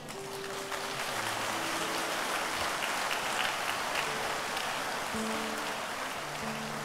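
A church congregation breaks into sustained, dense applause that swells quickly and holds steady, with faint background voices or tones.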